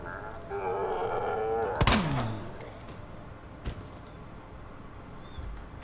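Gunfire in the Resident Evil 2 Remake demo: one sharp, loud shot with a ringing tail, then a fainter second shot a couple of seconds later over quiet game ambience.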